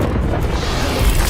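Incendio fire spell cast in Hogwarts Legacy, a short, loud, low booming whoosh of flame that holds steady for about a second.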